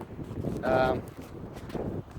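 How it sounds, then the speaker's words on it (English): Steady wind blowing across the microphone, a low rumbling gust that swells briefly near the start, with faint background noise throughout. "So as you can imagine, it's pretty windy being on the coast."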